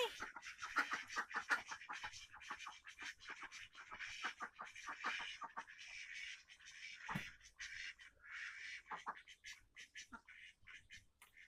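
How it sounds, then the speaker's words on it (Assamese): Ducks at a shallow patch of water in a rural Assam yard quack in quick, busy bursts, several birds overlapping at moderate distance, with a brief pause before the chatter resumes. "এইখিনি হাঁহ"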